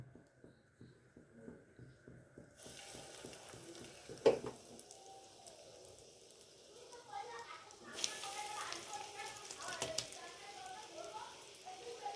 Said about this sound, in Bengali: গোল্ডেন ব্রাউন হয়ে এটা ফ্রাই হয়ে গেছে